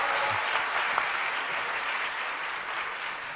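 Audience applause with scattered cheers filling a Korean motivational talk venue, steady dense clapping throughout at moderate distance with no speech over it.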